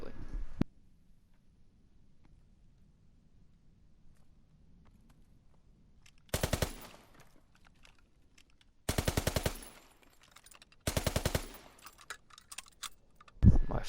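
Three short bursts of rapid automatic fire from a submachine gun in Call of Duty: WWII, each a tight string of sharp cracks, with quiet gaps between them and faint talk in the background.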